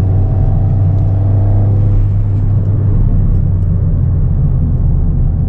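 A loud, steady Ford Fiesta ST200 engine drone with a thin whistling tone from the ITG air filter riding on top, fading after the first couple of seconds.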